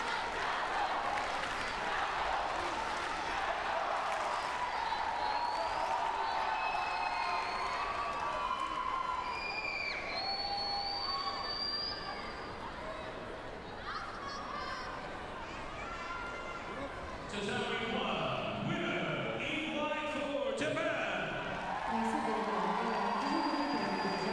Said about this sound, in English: So a lot of support there in the crowd.